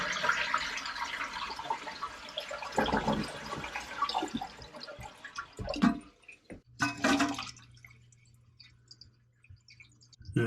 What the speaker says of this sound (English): push the flush lever and let all the water out